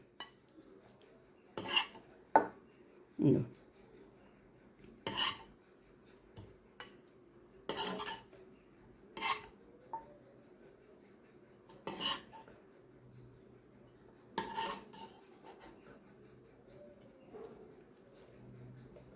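Crispy restaurant-style gobi manchurian is spooned from the pan into a bowl, with a spaced series of sharp metallic clinks and scrapes of cutlery against dishes, close and clear over near silence.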